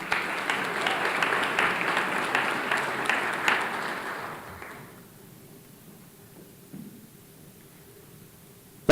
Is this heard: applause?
yes